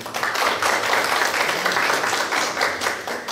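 Sustained audience applause at a printing culture industry development forum in Daejeon, a dense steady wash of many hands clapping continuously and loudly throughout, with no talking over it.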